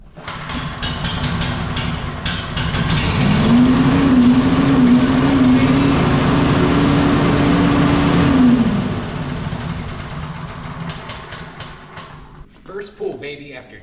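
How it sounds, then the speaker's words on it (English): A Briggs & Stratton small engine, just out of ten months in storage, is pull-started and catches on the first pull. It runs loud and steady close by for several seconds, then drops off to a lower idle. "Let's see how easy it is to start up this Briggs & Stratton engine after 10 months in storage."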